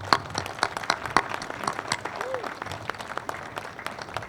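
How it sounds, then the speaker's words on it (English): A crowd gathered outdoors for a ribbon cutting ceremony claps, with sharp, scattered handclaps rising above a steady wash of applause. "all deserve a tremendous round of applause"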